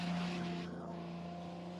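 Spec Corvette race car rolling out onto the track at Sonoma Raceway, a steady low engine drone with a sustained harmonic hum, moderately loud and continuous with no talk over it.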